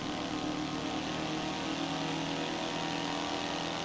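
Sluggish car engine in the Forza Horizon 4 racing game, droning steadily and strained at mid pitch throughout, loud and continuous with no talk over it.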